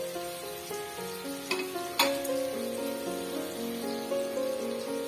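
Sweet bananas frying in margarine in a pan give a steady, close sizzle throughout, broken by a few sharp utensil clatters near the start.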